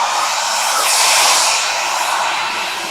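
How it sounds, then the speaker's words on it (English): A hair dryer blows hot air in a steady, loud whooshing roar that swells slightly and then eases, with no voices over it. "How about we add this hair dryer?"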